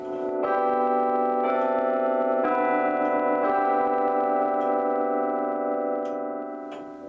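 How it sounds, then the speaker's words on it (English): Westminster chime rung by the Howard tower clock in Thompson Hall at UNH, a sequence of loud, ringing bell tones struck one after another with long overlapping decay, heard clearly without voices. "What you just heard is the Westminster chime."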